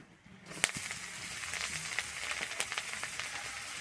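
Chopped garlic sizzling in hot melted butter with whole cardamom, cinnamon and cloves in the pan, a steady bright frying hiss that starts after a short quiet moment and carries scattered small pops and crackles throughout.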